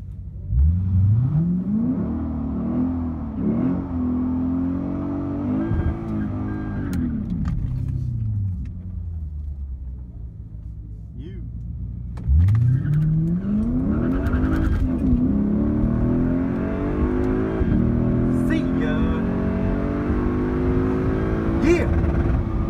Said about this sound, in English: C63 AMG.